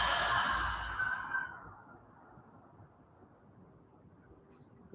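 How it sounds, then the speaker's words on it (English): A deep breath exhaled during a yoga breathing exercise, a long, breathy sigh that starts loud and close and fades over about two seconds, followed by quiet room tone and no talk. "Breathe in."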